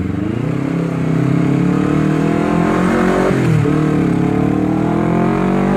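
A Honda CBR250RR fitted with a 3Tech Evox X3NRC aftermarket exhaust being ridden on a patched road, a loud close engine drone that climbs steadily in pitch, dips briefly as it shifts, then rises again.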